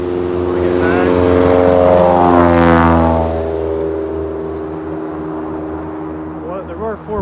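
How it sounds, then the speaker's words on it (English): Propeller bush planes in Alaska roar loud and near, the engine drone swelling and then sliding down in pitch as one passes and fades, with a brief voice at the end. "Sam and Dan are getting 2 planes behind me."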